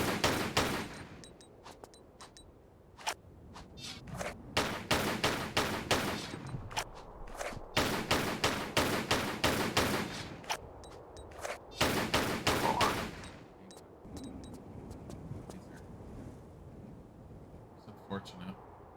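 Gunfire in Tomb Raider: The Last Revelation comes as repeated rapid volleys of shots across several seconds, with quieter gaps between bursts and some talking mixed in.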